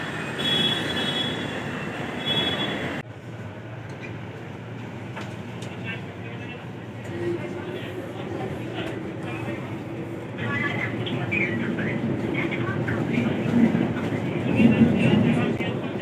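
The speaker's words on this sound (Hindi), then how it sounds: "मेट्रो में बैठा हूँ फ़िलहाल।" Steady rumble of a Delhi metro train in motion with wheels squealing on the rails, a voice talking in Hindi over the continuous ride noise.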